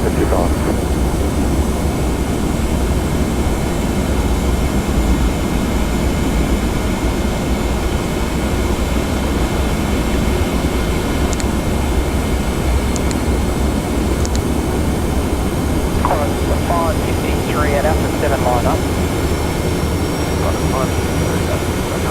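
Qantas 717-200 airliner jet engines drone in the Prepar3D v4 flight simulator during an ILS approach into Melbourne, a loud, even, unbroken rumble that holds steady throughout with faint higher tones above it.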